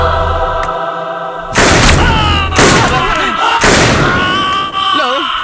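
Gunfire in the 2013 Kannada comedy film Cool Ganesha: three loud, sharp bangs about a second apart, each cutting through a background of music and voices.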